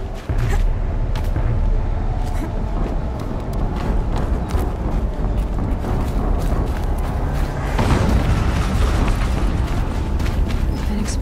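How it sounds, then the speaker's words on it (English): Explosion in the video game Horizon Zero Dawn, a loud continuous rumbling blast with crackling debris and mechanical clatter, swelling again near the end. "An explosion."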